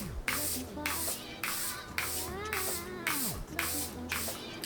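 Charlotte Tilbury setting spray mists onto a face in a rapid series of short, close hissing spritzes with a regular pumping rhythm, with faint background hum between bursts.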